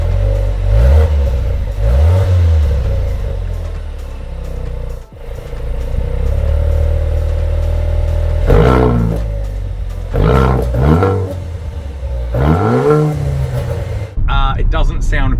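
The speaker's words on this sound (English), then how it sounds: "So you hit race mode and it opens up the exhaust valves. It sounds a little bit louder." Car engine in race mode with exhaust valves open, revved repeatedly in short loud throaty bursts that rise and fall, with someone talking between the revs.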